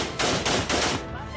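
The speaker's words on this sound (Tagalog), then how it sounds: "Salit-salitang pinaputok ng grupo ng kalalakihan ang M16 Armalite rifle sa liblib na lugar sa Arayat, Pampanga noong Sabado ng gabi." M16 Armalite rifle fired in bursts at night in a remote area of Arayat, Pampanga: three loud rapid volleys of gunfire in quick succession, echoing and fading.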